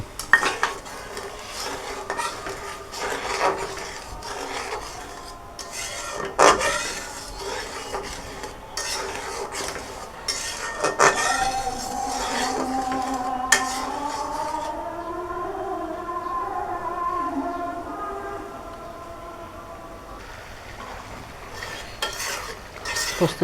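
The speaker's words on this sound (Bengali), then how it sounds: "এখন দিয়ে দিব পোস্তদানা যেগুলো আমি বেটে রেখেছিলাম এখন কষিয়ে নেব" Ground poppy seed paste is sautéed with onion and spices in a pan, with a spoon or spatula scraping and stirring repeatedly, metal clinks, and a soft sizzle underneath, with a tonal whine running in the background.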